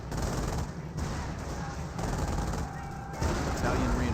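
Rifle squad gunfire in a Company of Heroes match, US forces against Panzer Elite: a steady dense crackle of small-arms shots and bursts through the whole stretch, with a heavier swell near the end.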